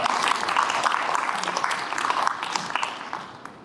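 Steady applause from attendees at a citizen participation group launch ceremony for an international climate and environment centre, moderately loud and fading toward the end after an appointment is read out.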